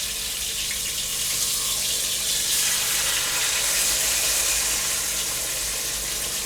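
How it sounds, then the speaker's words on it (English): Beef shanks searing in a hot pan, a loud continuous hiss and sizzle close up, steady and unbroken for several seconds with no voices. "You want to sear these. You want to get a nice color. Want your pan hot."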